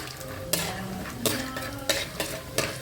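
Peanuts fry in hot oil with a steady sizzle, while a spoon stirs and scrapes the pan in several sharp strokes.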